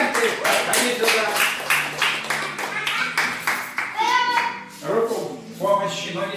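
Audience clapping at a children's drawing award ceremony in a hotel, a short burst of hands with children's voices and adult talk mixed in, moderately close.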